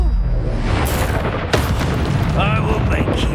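A spell-casting effect from the Hogwarts Legacy video game, a loud burst with a sharp crack partway through, set over a dense, continuous roar of game sound and music.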